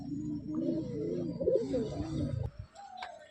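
A pet pigeon coos close by in a soft, repeated rolling rhythm for a couple of seconds, followed by faint fluttering and quiet noise.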